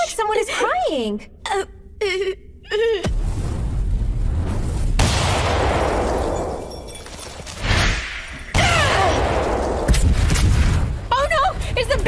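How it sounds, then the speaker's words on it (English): A building explodes in an English-dubbed anime, a long roaring blast of deep rumble and crackling debris that swells and surges over several seconds, following a few short, strained vocal cries. "Is the building exploding?"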